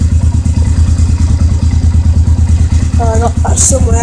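A Honda CRF dirt bike engine idles after a cold start, a loud steady low putter that runs throughout with slight uneven pulsing, while a voice briefly talks near the end.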